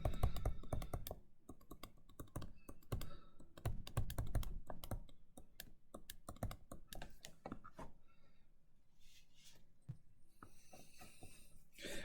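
Typing on a computer keyboard during a linear algebra lesson, with rapid bursts of close key clicks that thin out into sparser taps toward the end, with no talking.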